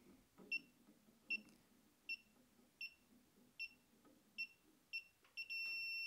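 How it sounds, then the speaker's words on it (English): A Klein digital circuit breaker finder gives a series of short, sharp electronic beeps that come gradually closer together as it nears the breaker, ending in a steady continuous tone; the setting is quiet and no one speaks. "When you get close to the breaker, that green light will start to beep faster,"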